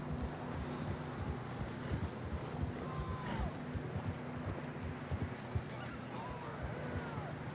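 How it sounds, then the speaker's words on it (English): Horses galloping in a PS4 video game: continuous drumming hoofbeats under windy, roaring ambience, with faint whinny-like calls rising in the middle and near the end. "I don't think we can go much further on the horses."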